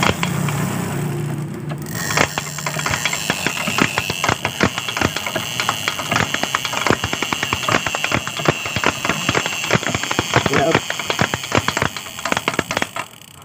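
A Honda Supra motorcycle with an oil pump fault and its top end opened up is kicked over repeatedly, giving a fast, loud, rhythmic mechanical clatter and ratcheting close up for several seconds.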